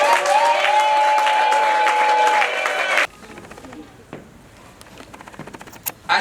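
Wedding guests at a religious marriage ceremony break into loud, sustained applause for about three seconds, which then drops abruptly to a quieter room with scattered sharp clicks and a few isolated claps.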